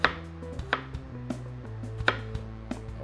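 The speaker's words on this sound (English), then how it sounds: "I'm just going to cut little 1/4 inch slices of strawberry" A knife cuts strawberries into quarter-inch slices on a board, giving a series of crisp, close chopping taps at an irregular, unhurried pace with no voices.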